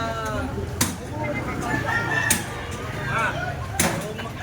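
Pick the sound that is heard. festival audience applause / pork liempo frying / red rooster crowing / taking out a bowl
red rooster crowing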